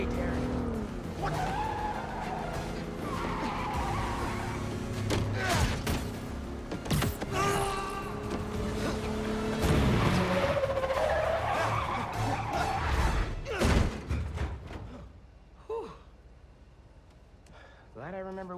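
Tires squeal and skid at length as a car brakes hard in the Spider-Man 2 game, with engine noise and voices over it, then the noise cuts off into near quiet with a few small knocks.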